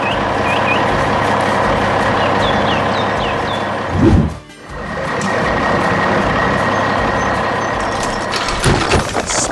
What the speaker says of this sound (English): 2 mighty trucks carrying heavy rocks